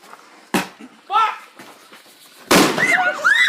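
Fireworks set off at a New Year's celebration pop and crack in sharp, loud bursts, with one big blast near the end, while people shout and talk excitedly close by.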